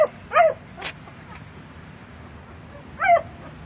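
A dog shut in a car on a hot summer day lets out a few short yelping barks and whimpers, spaced apart, fairly close and loud.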